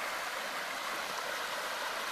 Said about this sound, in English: Standing above Goat Creek, a winter's creek.